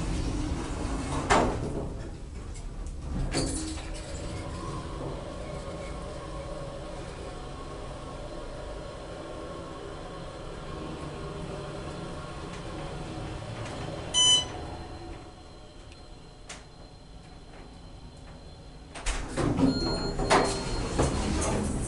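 A 2006 Otis hydraulic elevator door at a hospital slides with a few separate soft thumps and rumbles under a quiet hum from the cab, and a short beep sounds in the middle.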